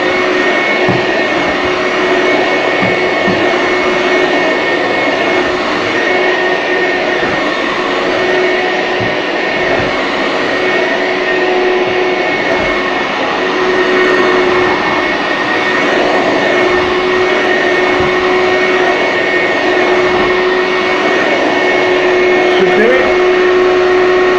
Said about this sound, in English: that's it in action. So not a bad little vacuum actually, considering how old it is.